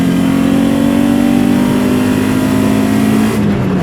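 Honda Civic Si engine held at high revs with a steady, loud whine near the VTEC crossover around 5750 rpm, then dropping slightly in pitch near the end as the throttle eases; no talk.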